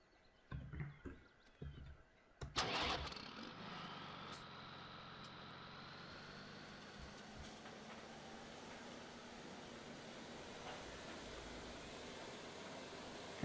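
A tractor engine in Farming Simulator 17 starts after a few clunks and settles into a quiet, steady drone with a faint whine.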